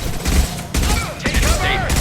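Heavy gunfire erupts in a shootout during the video game Mass Effect 2, with a dense rapid-fire volley of shots and bursts close up over about two seconds, shouting and game effects mixed in.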